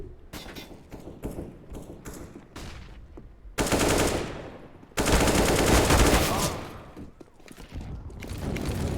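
Rapid bursts of AK rifle fire crackle through a competitive first-person shooter match, loud and close, with short stuttering volleys early and then two longer sustained salvos in the middle before the firing tapers off.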